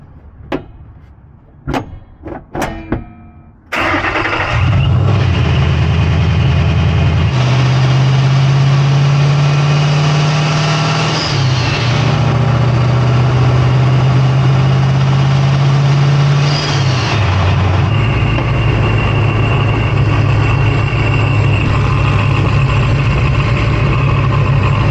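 A car engine idles briefly after a few knocks and thumps, then roars up into sustained high revs with tone shifts between gear changes, loud and close throughout, with no talk.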